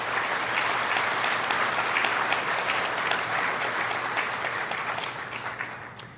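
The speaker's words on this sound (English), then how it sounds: "How about a round of applause for our special guest?" Audience applause at a Trent University Durham convocation ceremony, a dense sustained clapping from a large indoor crowd that holds steady for several seconds before tapering off.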